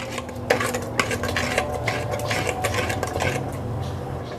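Mustard greens saag being mashed and stirred in a pot, a steady run of scraping, knocking and clattering from the utensil against the pot, close and fairly loud, with a low hum beneath.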